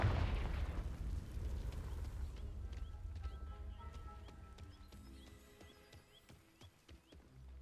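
Fire spell blast in Hogwarts Legacy, a deep booming burst that rolls out over about two seconds, then fades into quieter game ambience with light tonal chimes and soft thuds.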